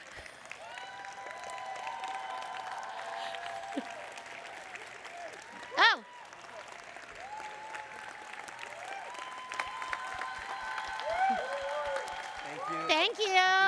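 Sustained applause from a conference room audience during a Python community awards presentation, steady and broad for several seconds, with a brief loud exclamation near the middle and scattered voices and murmurs beneath the clapping.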